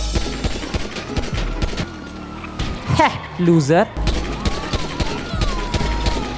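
Rapid bursts of gunfire crackle through a busy GTA Online game soundscape with engine noise, while someone talks over the shooting.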